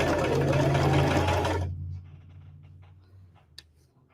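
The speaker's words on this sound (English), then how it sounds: "Put my foot down. Put my needle down. And here we go." A sewing machine stitches quilt blocks in a loud, steady mechanical whir that runs for over a second and then stops abruptly, leaving faint clicks and handling noise.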